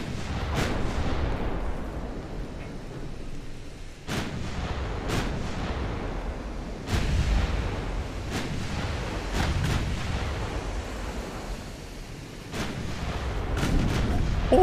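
High-explosive shells are fired in a video game as heavy, booming cannon shots, about a dozen irregularly spaced blasts over a low rumbling background.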